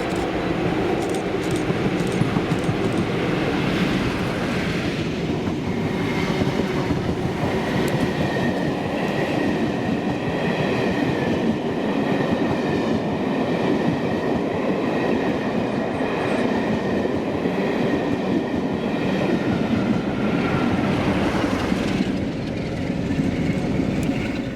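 A train hauled by class 47 diesel locomotives 47815 and 47746 on an Edinburgh to Rannoch working in Scotland passes close by with a loud, sustained rumble of engines and wheels.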